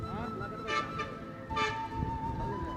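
Buses arrive at a hotel pickup stop on the Tibetan side of Mount Everest, with horns giving a few short toots over idling traffic while people talk nearby.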